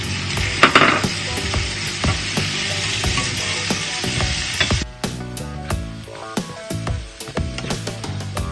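Tomatoes frying in a pan for Qatari bechamel pasta, a loud dense sizzle broken by repeated clacks of a utensil stirring against the pan, the hiss easing midway while the scraping continues.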